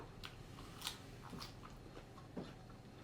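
Fresh-picked garden vegetables crunch in close, quiet bites: a few sharp crisp snaps with softer chewing between them.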